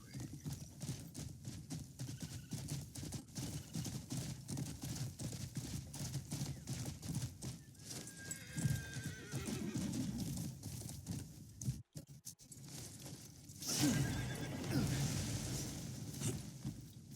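Horse in the game Crimson Desert: a continuous rhythmic gallop of hooves heard up close, with a neigh partway through and a louder rush of movement near the end.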